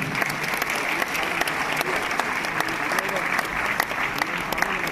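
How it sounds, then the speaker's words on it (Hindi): An audience applauds at a group event in Talkatora Stadium, Delhi, with dense, steady clapping from many hands that fills the hall at an even loudness throughout. "तो एक बार आप सभी के लिए जोरदार तालियां"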